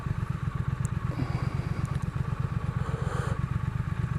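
A 2020 Triumph Thruxton RS motorcycle engine thrums steadily while being ridden, a close, evenly pulsing low-pitched beat that runs without a break.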